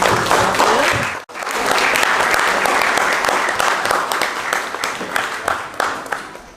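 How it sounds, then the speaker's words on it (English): An audience at a school education-week competition claps in sustained, dense applause that briefly cuts out before resuming and gradually thinning into scattered claps. "Big round of applause."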